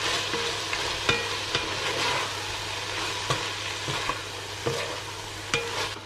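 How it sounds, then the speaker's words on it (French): Chicken browning in a pan, a soft, continuous sizzle broken by repeated sharp scrapes and clinks of stirring, close by and without talking. "Je vais faire revenir mon poulet"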